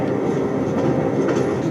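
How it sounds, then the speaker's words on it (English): A Sound+Sleep high fidelity sleep sound machine plays its train setting, a loud steady rumble of rolling rail cars with faint clickety-clack, continuous and without talk. "This is your train sound."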